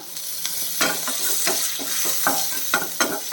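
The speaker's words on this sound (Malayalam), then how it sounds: "ഒരു അര ഇഞ്ച് നീളത്തിലുള്ള ഇഞ്ചി രണ്ടും ഇട്ട് കൊടുക്കുന്നേ കുറച്ച് കറിവേപ്പിലയും കൂടെ ഇട്ട് കൊടുക്കാം" Ginger pieces and curry leaves sizzle and crackle in hot oil in a pan, with repeated stirring scrapes punctuating the steady frying hiss, close and alone.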